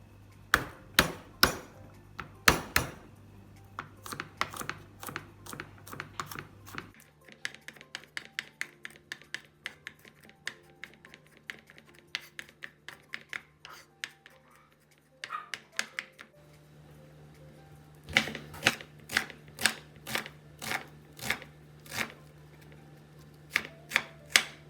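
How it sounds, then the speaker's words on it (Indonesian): Sharp knife chopping crushed seasonings finely on a cutting board, rapid close rhythmic knocks in bursts with short pauses, a low steady hum underneath. "Ini bumbunya super simple, hanya digeprek lalu dicincang halus."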